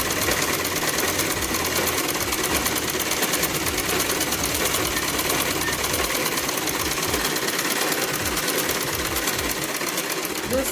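A sewing machine runs steadily and fast while curved stitching is sewn on a salwar, its even mechanical whir continuing throughout.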